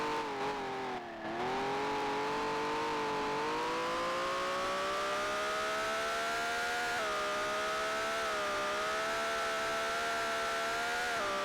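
A Ferrari 1512 Formula 1 car in Grand Prix Legends at Jarama: a loud, steady high-pitched engine howl climbing gradually through the revs with a brief dip early on, continuous and alone.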